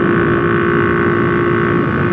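A Honda Cub engine runs with a holed, leaking exhaust, giving a loud, steady, raspy drone heard up close for a couple of seconds with no talk.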